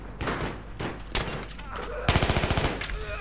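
Bursts of MTAR rifle fire from Battlefield 3 Gun Master on the Ziba Tower map, with short volleys early on and a rapid automatic string of shots toward the end, close and loud, with game noise between bursts.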